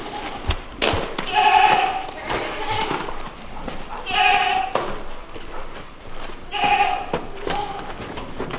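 Newborn baby goats bleat in repeated short, high calls at a farm during a snowstorm. Several bursts come close together, with thumps and handling noises around them, and people talk nearby.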